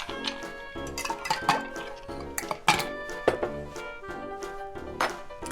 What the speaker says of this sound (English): Add your ice.